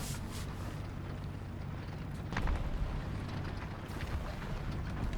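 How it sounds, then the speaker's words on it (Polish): An artillery strike lands on a destroyer during a War Thunder naval battle on the Karelia map: a continuous low rumble of wind and water, broken by one sharper blast partway through. "Artyleria idzie na niszczyciel."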